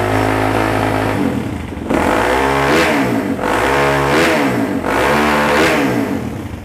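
A Symotos 190 motorcycle with a five-speed transmission is revved repeatedly once it has warmed up, giving three or four loud, close throttle blips that rise and fall in a steady rhythm over the idle.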